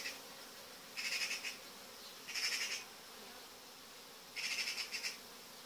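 Honeybees drone steadily in a continuous hum, with three louder swells of buzzing as bees pass close, no voices.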